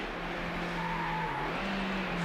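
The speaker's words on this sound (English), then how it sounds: "Ashley has come back now, and now it's just BMW versus Aston." A BMW and an Aston Martin race side by side on the Calypso Coast track in Need for Speed: Hot Pursuit 2 on PS2, engines droning steadily with a brief tire squeal, loud and continuous.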